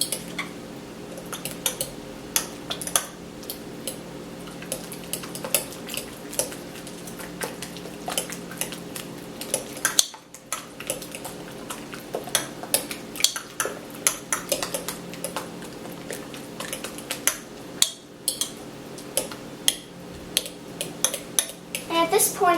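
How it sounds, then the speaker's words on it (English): Mashed bananas and other ingredients being mixed in a bowl for banana bread, with repeated clinks and scrapes of a utensil against the dish, steady and close. "And now we can mix it into the bananas."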